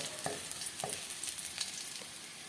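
Garlic fries in oil as a soft, continuous crackle, with a few light scraping taps from stirring through a short stretch.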